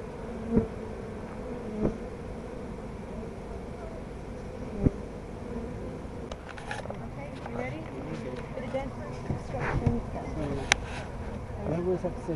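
A honeybee swarm buzzes and fans in a dense, continuous drone, close and steady, while a person talks over it and a few sharp knocks stand out.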